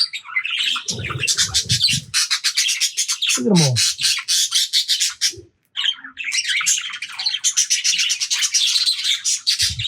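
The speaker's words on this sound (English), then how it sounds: "You can see these are all Trina's birds that she breeds." Flock of bred aviary birds chirping, tweeting and squawking in rapid dense bursts, loud and close, with a short pause midway and someone speaking briefly under the chatter.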